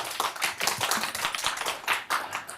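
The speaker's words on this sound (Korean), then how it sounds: "박수로 모시죠." Audience at an academic seminar on relocating Gwangju's military airport claps to welcome a speaker, a modest round of irregular handclaps from a smallish crowd, fairly quiet and without talk.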